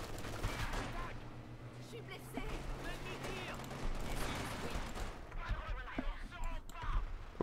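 Gunfire in the World War II strategy game Company of Heroes 2, with bursts of rifle and machine-gun shots crackling at moderate distance under a player's voice and game sounds.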